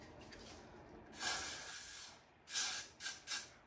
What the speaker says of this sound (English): Put a little extra gasoline spray on there.